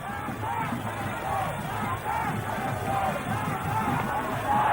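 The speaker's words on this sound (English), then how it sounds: "Jubilant crowds watching their local heroes in action." Jubilant crowd cheering at a 1996 Cricket World Cup match between Sri Lanka and Kenya, a steady roar of many voices with whoops and babble, loud and continuous throughout.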